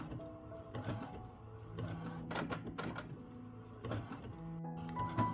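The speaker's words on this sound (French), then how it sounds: "l'imprimante est quand même plutôt très fiable" A printer runs steadily while printing an A3 poster, a continuous mechanical whir with repeated clicking and shuttling bursts at irregular intervals, moderately loud and close.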